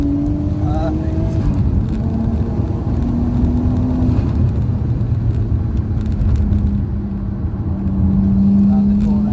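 A Nissan R34 rounds a corner with a steady engine drone and shifting tone, heard up close under continuous wind and road noise.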